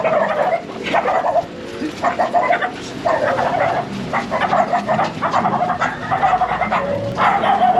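Dogs bark repeatedly in loud, uneven bursts, several overlapping, continuing throughout at close range.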